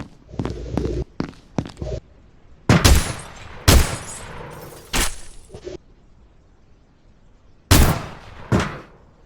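Weapon fire in an Unreal Engine 4 game, several loud separate bursts and single shots with short pauses, close and sharp with decaying tails.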